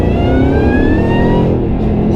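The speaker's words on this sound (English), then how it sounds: "That exhaust sounds incredible." Supercharged 663 WHP modified car pulling in first gear, loud close exhaust roar with a rising whine as the engine climbs through the revs, then easing off at the end.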